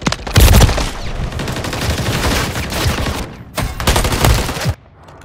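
Loud bursts of automatic gunfire in the shooter game Call of Duty Modern Warfare 3, one long sustained volley followed by a second heavy burst that cuts off abruptly.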